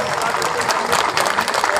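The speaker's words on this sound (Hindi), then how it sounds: "आपकी तालियों की गड़गड़ाहट" A crowd at a BJP political rally in Dhanghata claps in a thick, continuous burst for JP Nadda's address. The applause is loud and close-sounding throughout this short moment.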